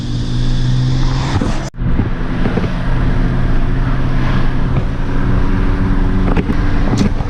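A Ford Falcon drives along with a loud, steady engine drone and road rumble close by. The noise cuts out sharply for a moment, then carries on unbroken with no voices.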